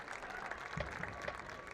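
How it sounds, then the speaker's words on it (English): A stadium crowd at a college football game, East Mississippi Community College against Copiah-Lincoln, applauds the marching band. The clapping and cheering sound distant and faint, with a steady wash of crowd noise. "big round of applause for the East Mississippi Community College Mighty Lion Band."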